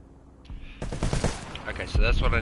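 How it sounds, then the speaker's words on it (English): Machine gun fire in War Thunder, a short loud burst of rapid shots starting abruptly and running to the end, with a voice talking underneath. "Weaponry, machine gun."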